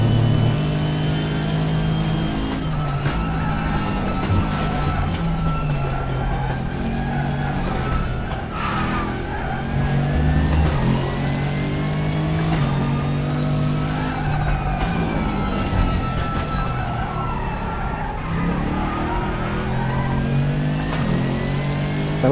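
A race car engine in the RaceRoom sim at Bathurst, revving hard and close with rising pitch sweeps and repeated gear shifts, interrupted by brief drops as it slows for corners.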